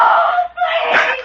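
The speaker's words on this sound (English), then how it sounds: "Then, a scream in the night, and Johnny first learned that his wife is in the hands of his tormentors" A woman screams in the night in a radio drama, one sharp, brief cry that breaks off, heard alone and fairly close.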